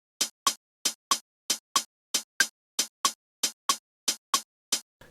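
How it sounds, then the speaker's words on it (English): A sparse, dry percussive beat with an uneven eighth-note swing, sharp hits falling in lopsided pairs at a steady tempo, fairly quiet and close with no voices. "8th note swing means we separate the first note unevenly"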